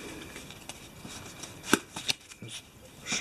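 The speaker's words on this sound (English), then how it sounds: "Just shuffle it" A deck of cards for the Eldritch Horror board game is shuffled up close, with soft riffles building to a few sharp snaps and a final riffle at the end.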